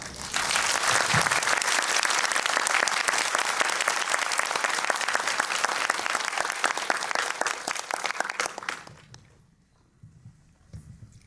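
A film festival screening audience in Busan breaks into dense, sustained applause for about nine seconds before it thins and dies away. A voice then begins speaking.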